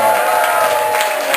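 An audience at a stand-up comedy show in a coffee venue breaks into applause and cheering, a dense, close wash of clapping and crowd noise filling the whole short moment.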